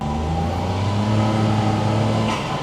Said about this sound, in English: That is the sound of the turbo.